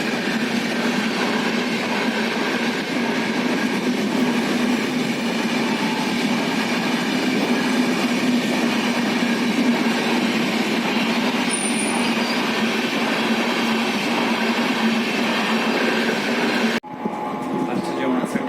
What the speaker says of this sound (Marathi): रेल्वे फाटक बंद होतं आणि ट्रेन पास झाली